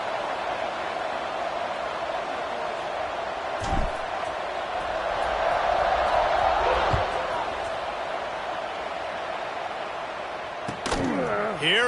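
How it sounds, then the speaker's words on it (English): A football stadium crowd at a Temple versus Michigan game hums and buzzes steadily, swelling in the middle, with a few thuds in the background and no clear talk. "this crowd is buzzing after that last score"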